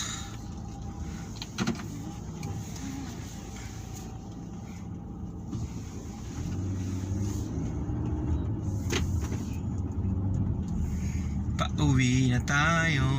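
Road traffic in Saudi Arabia heard from inside a car on the drive home, with a steady engine and road rumble that grows louder midway, a brief mechanical whir near the end, and a voice speaking over it.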